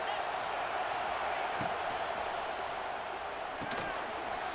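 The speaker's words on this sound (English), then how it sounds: "this crowd is turning it up a notch" A football stadium crowd against Alabama keeps up a dense, steady roar that sounds somewhat distant and muffled, with a couple of faint thuds and a brief sharp crack.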